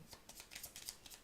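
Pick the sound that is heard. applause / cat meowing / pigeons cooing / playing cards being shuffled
playing cards being shuffled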